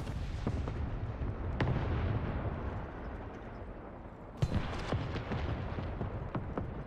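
Tank cannon fire in a PC tank battle game: deep booming shots roll out, with a sharp, louder blast near the middle followed by rumbling echoes.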